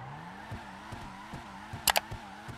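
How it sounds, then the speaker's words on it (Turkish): A fast drift car in GTA Online, its engine droning at a steady pitch with small rhythmic surges and a brief sharp squeal near the end, fairly close and alone. "Bu arada araba çok hızlı gidiyor, onu da size göstereyim."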